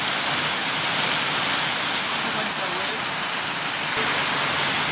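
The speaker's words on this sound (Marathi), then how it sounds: "इतको तुफान पाऊस जोरदार पडटा" Heavy monsoon rain pours down in a town street, a dense, loud, unbroken hiss that lasts the whole time.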